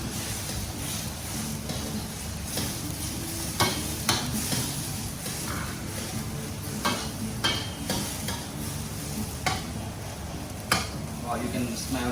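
Beaten eggs stirred in a pan during a Vietnamese cooking class, a soft frying sizzle under repeated scraping and tapping strokes of the utensil, with a voice talking intermittently over it.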